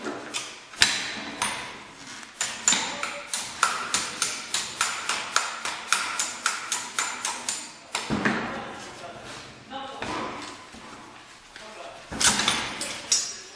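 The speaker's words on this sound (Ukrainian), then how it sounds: "Отбиваем пружину сначала." Sharp metallic hammer blows knock the spring off an MU-8 pneumatic coal pick during disassembly in a training workshop. Heard is a steady run of close, loud, evenly spaced strikes that pauses, then resumes with a final burst.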